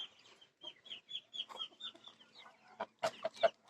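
Chickens in a village poultry yard cluck in a string of short, repeated calls, soft and fairly close, ending with a few sharper, louder squawks.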